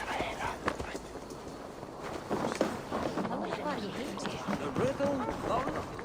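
Horse hooves clip-clopping in Assassin's Creed Valhalla, a rapid run of hoofbeats close by, partly under talking voices.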